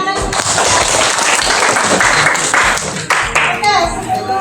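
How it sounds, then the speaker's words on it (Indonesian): A class of children claps hands together in a room, producing a loud, dense burst of clapping that runs throughout, mixed with children's voices and an adult speaking. "Oke, tepuk tangan."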